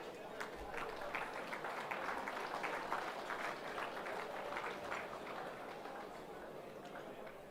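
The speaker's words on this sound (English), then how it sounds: "Big round of applause for our 3-way winners." Audience at a football netball league medal night applauding award winners, a steady wash of dense clapping that holds through, fairly distant, with a voice faintly under it.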